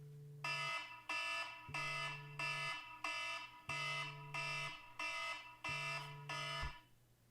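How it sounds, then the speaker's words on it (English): An electronic alarm sounds in repeated bursts of harsh, buzzing beeps, roughly ten pulses in a steady rhythm, clear and moderately loud with no talking. "I'm gonna set an alarm for 8."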